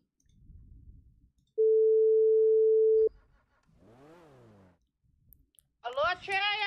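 A phone call being dialed, with the line sounding one long, steady electronic tone for about a second and a half. Short clicks and a voice come before it, and more talking follows.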